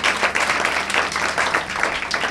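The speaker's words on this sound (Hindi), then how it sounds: "फटाफट ताली बजाएगी" Audience applause with many hands clapping in a dense, steady roar, loud and close for a couple of seconds with no voices over it.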